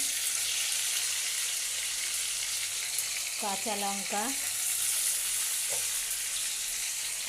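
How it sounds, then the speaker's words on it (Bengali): Potatoes frying in a pan as tomato and green chili are added, a continuous soft sizzle runs throughout while a person speaks briefly over it. "আমার আলুগুলো লাল লাল ভাজা হয়ে গেছে, দিয়ে দিচ্ছি টমেটো"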